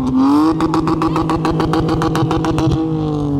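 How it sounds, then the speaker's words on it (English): BMW E46 engine revving hard in rapid repeated bursts, a loud, close, steady buzzing rasp with a sharp pulsing rhythm that eases off at the end. "Listen to this BMW."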